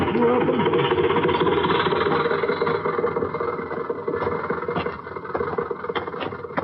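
An old hired car's engine rumbles and chugs steadily as a radio drama sound effect, with loud low mechanical knocking that gradually fades slightly, and a voice briefly speaks over it.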